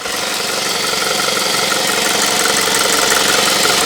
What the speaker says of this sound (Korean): 엔진 소리 한번 제가 간단하게 들려드리도록 하겠습니다